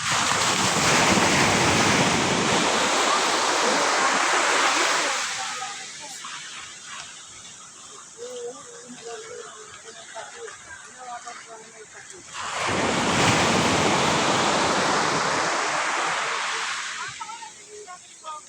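Afternoon sea waves surge onto the shore in two big loud washes with a quieter lull between them, with wind buffeting the microphone throughout.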